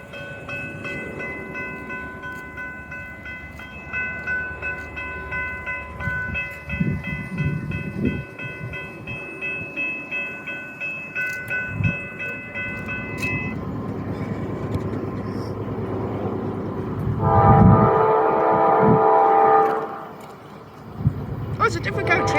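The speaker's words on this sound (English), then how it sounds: "Those are actually quite loud. Yep, here they come." A train passes a level crossing, sounding a loud, sustained horn blast that later returns, with rolling rail rumble, heard at close range while a person talks nearby.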